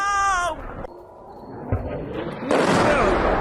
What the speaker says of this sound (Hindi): जबरदस्त धमाका हुआ उस समय जब इस मिसाइल को हवा में रोका गया।